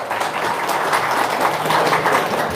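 An audience claps together in a dense, steady burst of applause that stays at an even, fairly loud level for a few seconds.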